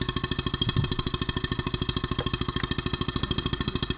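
A Stuart 7A model steam engine runs at 7.5 volts, about 405 RPM, with a fast, even mechanical beat of close, regular chuffs over a continuous hum.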